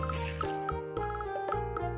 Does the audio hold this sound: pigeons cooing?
no